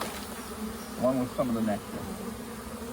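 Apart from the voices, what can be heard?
honey bees buzzing around hive frame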